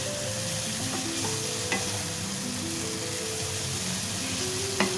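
Egg curry with cauliflower and potato fries in a pan, a loud, continuous close-up sizzle with a couple of sharp utensil taps and a steady stirring rhythm, with no voices.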